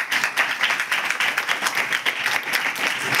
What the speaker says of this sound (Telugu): సార్ నా ఫ్రెండ్స్ వాడికి ఒకసారి క్లాప్స్ ఇవ్వండి